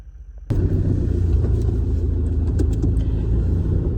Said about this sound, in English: There's a lot of cars in front of us, and we've been here already for probably 20 minutes